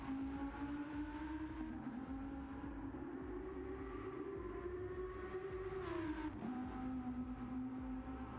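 A GR3 race car lapping the Nordschleife in Gran Turismo 7, its engine a steady sustained drone that rises slowly, dips briefly as it shifts or brakes, then holds on, moderately loud and continuous.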